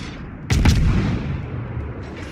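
Warship guns firing at the Bismarck in World of Warships, a single heavy boom that rings out and decays slowly over a low rumbling background.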